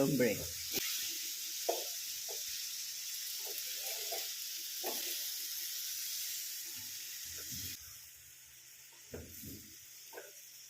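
A steady, sizzling hiss of chopped green papaya cooking off its water in a pan, with occasional soft knocks and low voices underneath.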